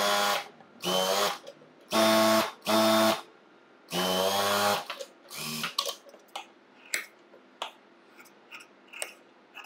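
A sewing machine stitches lining in several loud, even bursts of fast mechanical whirring separated by pauses, followed by quieter clicks and handling taps, with no voices.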